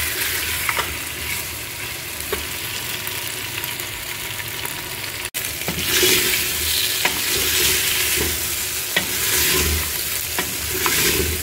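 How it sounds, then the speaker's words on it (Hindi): Mutton for a roast fries in a little oil while a spoon keeps turning it. Loud, close sizzling continues with scraping strokes, and there is a brief dropout near the middle, after which the sizzle comes back louder. "इसी ऑयल में इसको हम घुमाते रहेंगे थोड़ी देर"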